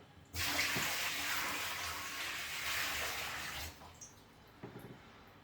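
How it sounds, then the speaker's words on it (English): Water is bailed out of a fish tank and poured away in one long, close splashing gush lasting about three seconds, followed by a few smaller drips and splashes. "I'm basically bailing the fish tank out."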